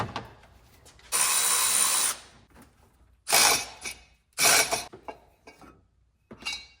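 A hand ratchet turns 10 mm bolts loose on a 2004 Land Rover Discovery 2 during a head gasket repair. It gives several close, bright bursts of rapid clicking that are separated by short pauses.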